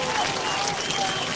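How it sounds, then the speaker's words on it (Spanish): Broad applause from a stadium crowd at a Lavalleja interior football semifinal, a steady wash of clapping and crowd noise lasting throughout, with a commentator's voice running over it. "El aplauso generalizado para el gato"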